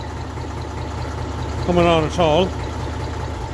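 Massey Ferguson 35 tractor engine idling low at around 600 rpm, a steady soft rumbling throb running throughout while someone speaks briefly over it.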